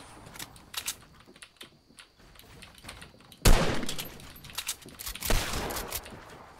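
Keys clack on a Logitech gaming keyboard in quick irregular clusters, close and fairly quiet, joined midway by a loud burst of Fortnite gunfire and further sharp game noises.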